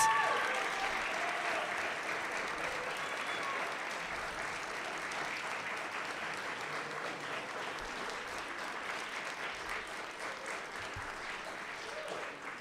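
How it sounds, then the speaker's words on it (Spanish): Audience at a university ceremony presenting internship letters applauds the graduating interns with a long, even stretch of moderate clapping that slowly eases in loudness, a faint voice murmuring beneath it. "Brindemos un fuerte aplauso a todos nuestros pasantes."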